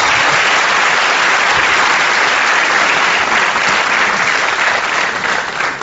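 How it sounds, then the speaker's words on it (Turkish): Studio audience applause on a Turkish comedy sketch show, dense and loud, holding steady throughout and easing slightly at the end. "alkışlar"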